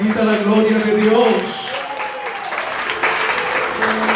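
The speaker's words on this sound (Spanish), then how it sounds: "Den un aplauso al Señor." Church congregation clapping during a service, a broad wash of applause that starts loud and eases slightly, with voices speaking over the clapping throughout.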